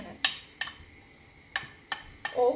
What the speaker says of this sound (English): When the oil is hot, add the onion and fry for 2 minutes.